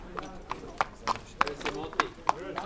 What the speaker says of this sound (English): a horse, led by one man, trots out from behind a corner